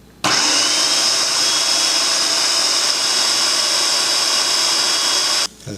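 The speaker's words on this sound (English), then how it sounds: "we're going to slowly add 1/3 cup of grapeseed oil while it's blending" A blender whirs loudly and steadily as an apple pie mixture is blended while grapeseed oil is slowly poured in. The motor starts abruptly and runs at an even, high pitch before cutting off.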